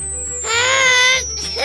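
A cartoon elephant lets out a loud, exaggerated hiccup, a bright tonal burst with stacked harmonics over a steady high whistle-like tone, in a lively animated children's story setting.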